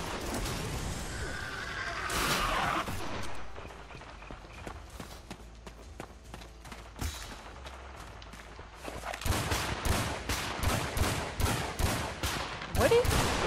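Rapid gunfire from the dinosaur shooter video game Primal Carnage, with bursts of repeated shots that thicken into a dense volley toward the end, loud and close over in-game movement.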